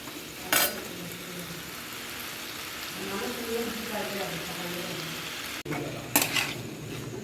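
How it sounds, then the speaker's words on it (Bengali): Diced potato curry sautéing in a pan with cumin powder and ginger: a soft steady sizzle runs under low stirring scrapes, with a couple of sharp clinks of a utensil against the pan. "জিরে গুঁড়ো দিলাম, আদা দিলাম, দিয়ে ভালো করে কষিয়ে নেব তরকারিটা"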